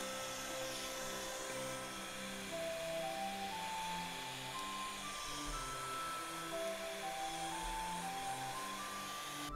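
A hair dryer blows steadily to dry a transparent watercolor painting of a ginkgo-lined avenue, a continuous close whirring hiss that holds level throughout with no voices over it.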